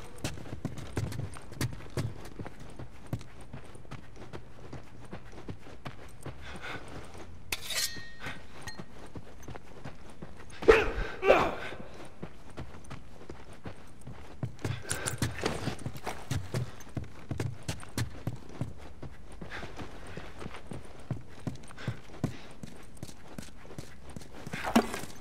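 Horse hooves clip-clop at an unhurried walking pace in the video game The Last of Us Remastered, irregular and moderately close, with a few louder thuds and rustles along the way.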